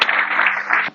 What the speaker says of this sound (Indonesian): Tepuk tangan semuanya bergembira saat ini dan malam ini